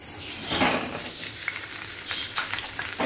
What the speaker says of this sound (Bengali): এই কড়াইতে তেল দিয়ে দিয়েছি এই ফুলকপি আর আলুটাকে ভালো করে ভেজে নেব